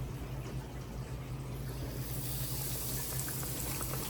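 A pinch of batter sprinkled into hot frying oil for fish fry, a continuous close bubbling hiss and crackle with a low steady hum underneath, no talk.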